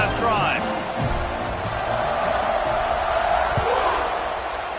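A large football stadium crowd roars steadily after a big drive, a dense, continuous wash of cheering and noise that holds throughout, with a commentator talking over it.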